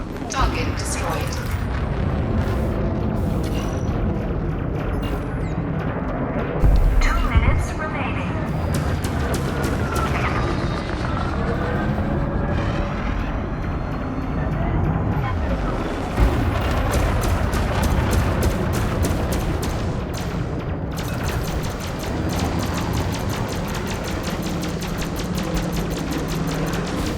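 Spaceship combat in Elite Dangerous Horizons, with an enemy ship being destroyed: dense, continuous rumbling blasts and crackling booms run throughout, with a voice talking over them.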